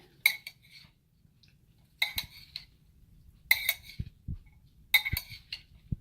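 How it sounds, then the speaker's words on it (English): Marinated mushrooms are tossed in a bowl, producing four short clusters of clinks and scrapes against the dish at regular intervals, close and fairly loud with quiet gaps between. "I'm just going to mix this up so everything is coated"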